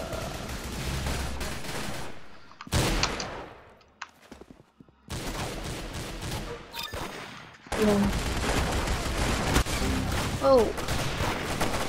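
Bursts of futuristic gunfire in the Roblox game Arsenal, rapid shots in clusters broken by short silences, with a player's voice briefly exclaiming over the action.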